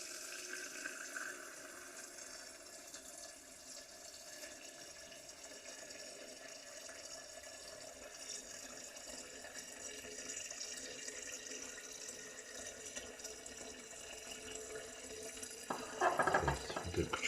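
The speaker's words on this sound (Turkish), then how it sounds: "suyumuz doluyor" Water running from a tap into a container while making grape pickles, a steady faint rushing flow that grows slightly fuller toward the end, with voices speaking at times in the background.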